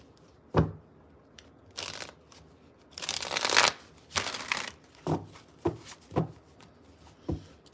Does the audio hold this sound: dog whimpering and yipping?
no